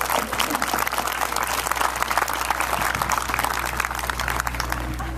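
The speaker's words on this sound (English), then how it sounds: "I think they need applause for being so well behaved." A crowd that includes many children claps in a sustained burst of applause, dense and even throughout, fairly loud without any voices rising above it.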